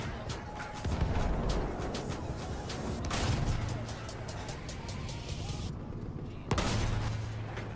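Battlefield 1 gunfire cracks out in repeated sharp bursts, a few loud shots standing out against a constant rumble of vehicles and battle noise, with someone talking over it.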